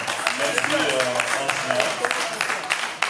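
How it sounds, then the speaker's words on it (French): Congregation applause and cheering at a French-language preachers' debate on unity, a dense, steady wash of clapping filling the whole stretch, with voices and shouts mixed through it. "Les acclamations, les acclamations."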